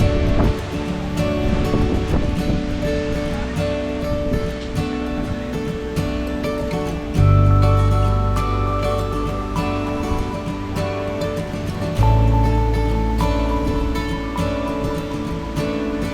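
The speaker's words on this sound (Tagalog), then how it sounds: "Nakaharap pa sa dagat. Nasa lakas ng alon." Ocean surf rolling onto a crowded beach at Lobo, Batangas, a steady loud wash of breaking waves with two heavier surges building midway, no talking.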